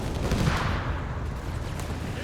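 A Nebelwerfer rocket barrage striking a mortar crew in the strategy game Company of Heroes 3, a continuous rumbling roar of explosions that stays dense and steady throughout, with a voice speaking over it.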